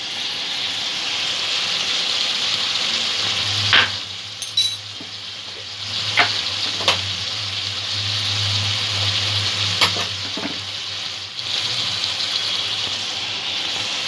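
Ginger-garlic paste sizzles steadily in hot oil with fried potatoes and pointed gourd for a kankrol curry, a continuous close frying hiss broken by a few spoon clinks and stirring scrapes, with no talking.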